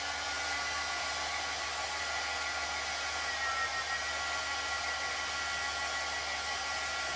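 Hair dryer blowing a steady, close, even hiss of air over a freshly inked transfer on a tea towel, constant throughout with no voices.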